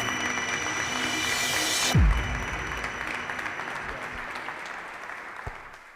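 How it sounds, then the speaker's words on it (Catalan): Loud applause from a crowd, dense steady clapping that cuts off abruptly, leaving a quieter room with a few scattered claps. "Fort aplaudiment"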